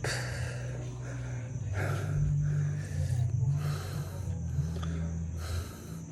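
A person pants heavily after hard exertion, with close, loud, rhythmic breaths in and out repeating for about six seconds and no words.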